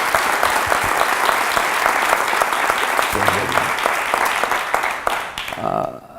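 A school audience at Mid-Pacific breaks into steady, energetic applause after a talk on learning diversity, dense clapping filling the space and tapering off near the end as a few voices murmur.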